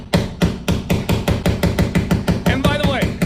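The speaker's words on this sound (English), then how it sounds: "I'm going to be using this Stanley level as my hammer" A Stanley level used as a hammer to drive a nail into a wall, giving about fourteen loud, close, evenly spaced knocks in a steady rhythm, with a short squeak near the end.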